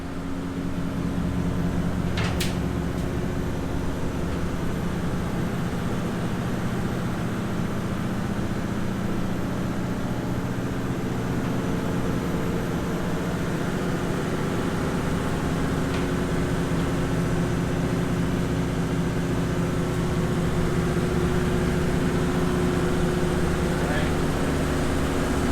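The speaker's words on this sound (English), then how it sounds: "Main engines are twin Caterpillars with triple Caterpillar generators." Twin Caterpillar main engines and triple Caterpillar generators drone steadily in a support yacht's engine room, a loud, constant low machinery hum with no breaks throughout.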